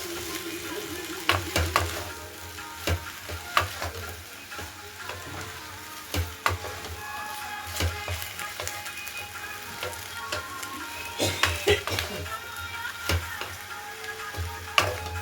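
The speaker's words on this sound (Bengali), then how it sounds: "এইভাবে ভালো করে কষতে হবে।" Chopped vegetables and tomatoes sauté in a pan for a Bengali chorchori of potato, onion stalks, cauliflower and beans, with a steady sizzle and repeated scraping stirs from a spatula, close and fairly quiet.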